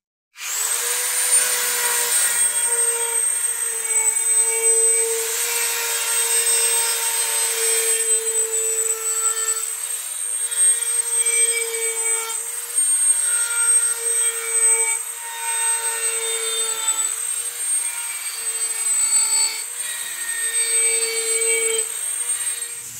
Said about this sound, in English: the sanding drum is 120 grit. So I'm going to very gently go along these edges and see if we can round those over.